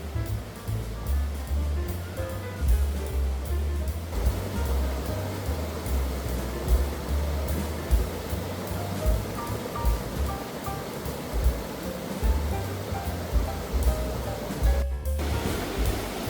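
Steady, loud rushing water of the Prohodnaya mountain river in Kazakhstan roars continuously beneath an iron footbridge, with no voices.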